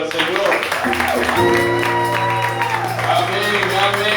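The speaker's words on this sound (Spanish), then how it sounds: "Démosle fuerte el aplauso al Señor." A church congregation clapping and calling out during a Friday deliverance service, steady crowd applause mixed with voices and a sustained background tone throughout.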